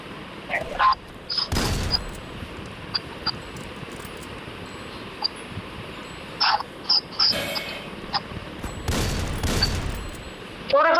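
Gunfire in an online shooter game, with scattered sharp shots and two heavy bursts of firing amid faint background game noise and brief voices.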